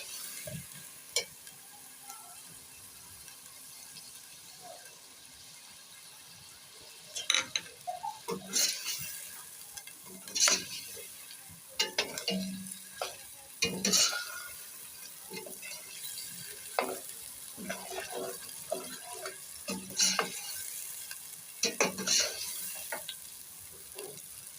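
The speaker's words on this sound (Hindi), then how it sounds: "अब इसको तकरीबन हम 1 मिनट तक इसको फ्राई करेंगे।" Spices fry and get stirred in a pan for a chicken dish with turnip and spinach. A steady low sizzle runs throughout, broken by repeated clinks and scrapes of a spoon against the pan that grow busier partway through.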